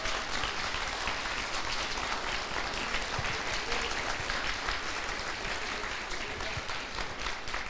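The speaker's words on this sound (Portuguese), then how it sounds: "Então aplauda." A church congregation applauds during worship, steady dense clapping from many hands that fills the space at an even, sustained level throughout, with no speech over it.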